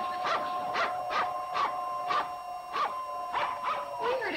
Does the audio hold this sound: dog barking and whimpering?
yes